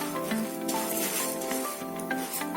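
Curry leaves frying in a pan for a homemade karepaku powder, giving a steady close sizzle and crackle with faint pan clinks, no talking.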